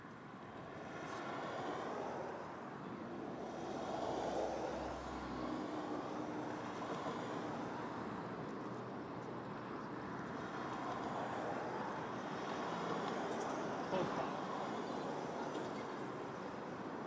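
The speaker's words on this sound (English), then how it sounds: "But after that is a 777-300 to Barcelona." A Boeing 777-300 takes off for Barcelona from Toronto Pearson, its engines a distant, sustained roar that swells slowly over many seconds.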